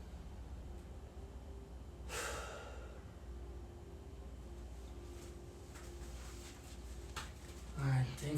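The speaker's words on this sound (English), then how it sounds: "Let's go for one deep breath in, and then we're gonna stretch it out fully at the end of that inhale." During a home workout stretch, one deep, breathy inhale rushes in close to the mic and fades to quiet room noise, followed by a little shuffling near the end.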